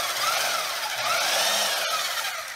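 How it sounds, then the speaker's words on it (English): A Milwaukee Portaband portable band saw runs with a steady whining motor hum, close and moderately loud, with a short click near the end. "converted it so that it runs my Milwaukee Portaband"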